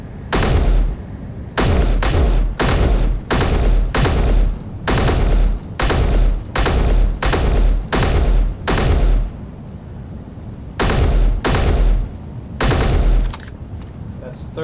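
Rapid bursts of automatic fire from a Gatling turret in the Space Engineers video game, about a dozen loud, sharp volleys separated by short pauses, with a longer gap before the last few bursts.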